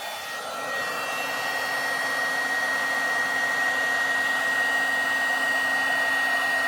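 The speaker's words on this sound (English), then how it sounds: "I'm going to turn on my heat tool." An embossing heat gun runs steadily nearby for card crafting, a constant high-pitched electric whine and airy blower rush that grows slightly louder as it spins up.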